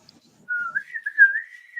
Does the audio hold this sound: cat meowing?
no